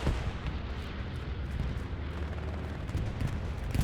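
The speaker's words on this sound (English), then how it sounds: "I hear a bombing run" Explosions from an aerial bombing run in a competitive video game match rumble as a dense, continuous barrage of booms and heavy low rumble, steady and loud throughout with no voices.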